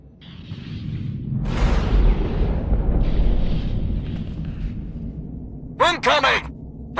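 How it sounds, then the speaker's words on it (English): Ion cannon fire in the Star Wars: The Old Republic video game: a loud, booming blast swells into a long rushing roar lasting several seconds, and a voice briefly speaks near the end. "Incoming! That's an ion cannon. It can cripple this entire fleet."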